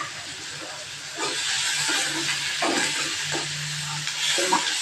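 Coriander-topped chutney stirred in a hot pan, a steady sizzling hiss with soft scraping strokes of the spoon breaking through at intervals, close and fairly loud throughout.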